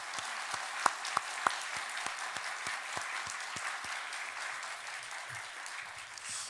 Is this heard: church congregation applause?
yes